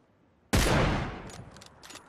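A single loud, close gunshot in an online shooter game bursts out and decays over about a second, followed by a few faint distant shots.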